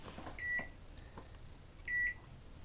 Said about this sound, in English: We're going to microwave the butter and the chocolate together for 30-second intervals